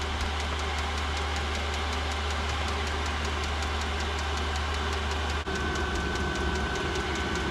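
A diesel heater fitted in an RV runs steadily, blowing hot air with a constant low droning hum and rapid pulsing combustion beat, close and unbroken except for one faint click.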